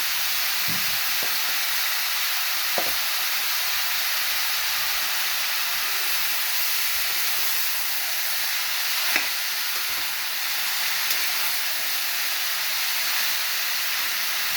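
Chayote curry frying in a pan with chilli powder and salt: a continuous loud sizzle and hiss for the whole stretch, with occasional faint utensil taps.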